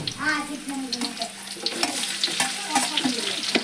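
Garlic crackles and sizzles in hot oil alongside fried chillies, with scattered pops and stirring clicks while someone speaks softly.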